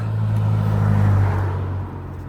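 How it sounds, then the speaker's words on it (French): A car drives past on a road with a loud, steady engine hum and tire roar that swells and then fades as it moves away, with no talking. "il y a le bruit des voitures"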